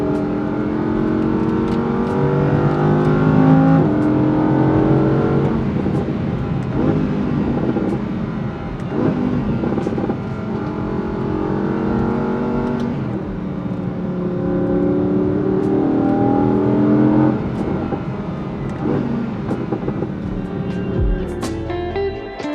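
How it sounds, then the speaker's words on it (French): An Audi R8 V10 Plus with a naturally aspirated 5.2-litre 610-horsepower V10 revs repeatedly, its engine note climbing and falling in several sweeping pulls, loud and close throughout. "Et lorsque vous réveillez le V10,"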